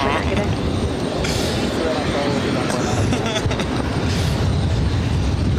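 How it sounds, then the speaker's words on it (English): A Southwest Airlines Boeing 737-800 arriving at Boston Logan from Chicago Midway makes a loud, continuous jet roar and rumble that stays steady throughout, with a voice talking over it. "This arrival is Southwest Airlines 3701 coming in from Chicago Midway on 737-800."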